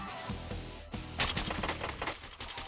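Gunfire from a Warzone match, a Gulag fight with iron-sight shooting, comes as a series of sharp shots with a short rapid burst, fairly quiet overall and with no talking.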